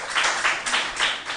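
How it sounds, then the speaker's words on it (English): Applause for two competing junior high and basic schools at a school quiz contest, a short burst of many hands clapping in a dense, steady patter with slight swells, moderately loud and with no talk over it. "A round of applause for them."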